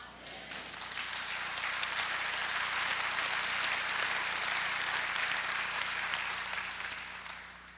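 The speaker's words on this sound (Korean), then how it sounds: "누가 박수 쳤는지 모르겠어요" Audience applause fills a mission conference lecture hall, a dense sustained patter of many hands that swells in, holds steady for several seconds, then tapers slightly at the end, with no one speaking over it.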